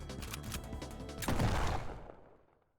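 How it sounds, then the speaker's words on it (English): Gunfire in a video game execution scene, a burst of loud cracking shots followed by a heavy blast that decays into a fading rumble, with no talking. "It only took a moment for the gunshot to come."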